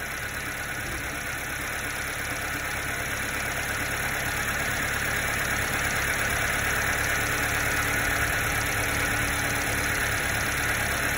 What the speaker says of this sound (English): RPMs just came up just a little bit